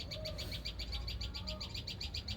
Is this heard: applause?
no